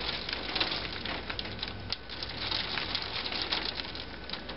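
Dense, steady hail pelts down during a hail storm, a continuous hissing patter of many small impacts with no pauses, heard from nearby and fairly loud, with no voices.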